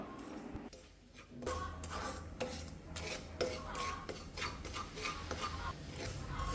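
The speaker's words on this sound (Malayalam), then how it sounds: "ഇതൊന്ന് വറുത്തെടുക്കാം" Semolina (rava) dry-roasting in a pan, stirred steadily with a utensil that scrapes and clinks against the metal in a continuous close rasping texture, with no voices.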